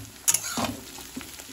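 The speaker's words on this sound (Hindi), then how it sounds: "ब्राउन करेंगे, ब्राउन होगा तब तक भूनते रहेंगे" Mushroom and paneer masala being stirred and fried in a pan, with a short burst of scraping and sizzling near the start and soft clinks later, fairly quiet and with no voices.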